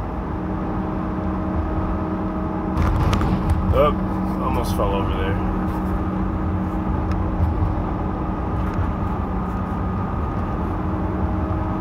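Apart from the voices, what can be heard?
loud rear end (differential) noise of a 2011 GMC van driving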